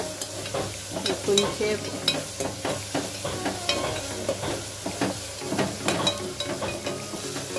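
Fish pieces frying in a pan for a spicy fish curry, a close crackling sizzle dotted with scraping stir knocks, while a voice speaks briefly.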